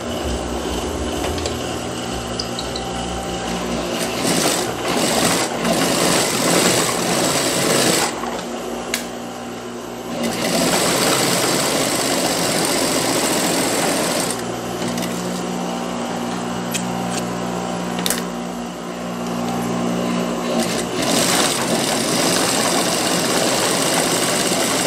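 A sewing machine runs in bursts while stitching two gathering seams on the small flap of a child's dress, a close, steady mechanical whir with short pauses between runs.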